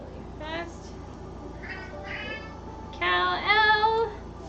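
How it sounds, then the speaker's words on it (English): A house cat meows indoors during a sewing session: a short cry, then a couple of softer meows, and finally a louder, drawn-out meow that ends the sequence. "Meow meow."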